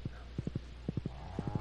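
Horse hooves clip-clop in the farming game Stardew Valley, landing in three quick bursts of three even, close, moderately loud steps over a low steady background hum.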